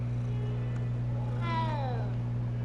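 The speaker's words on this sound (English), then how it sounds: "Oh, a cat." A cat in the Hogwarts Legacy game lets out a single clear meow that rises and falls, heard near over a steady low hum.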